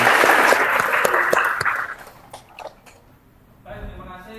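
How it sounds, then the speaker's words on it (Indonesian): A classroom of students clapping together for about two seconds, close and lively, then fading into scattered claps and quiet before a voice speaks. "tepuk tangan untuk kalian semua"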